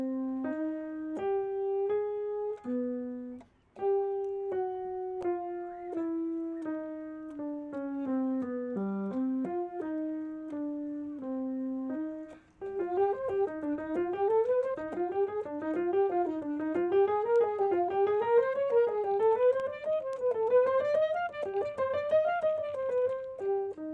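A single melody line from Bach's crab canon is played solo in a concert setting, with clear legato notes that first wander gently downward, then run quickly up and down in busier figures, with no one speaking.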